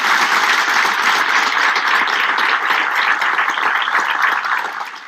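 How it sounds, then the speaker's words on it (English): Performers and audience at a stage performance of Dracula applaud one another, a dense, steady wash of many clapping hands that holds strong throughout and tapers slightly at the end. "take a bow, ladies and gentlemen, and applaud each other and our audience."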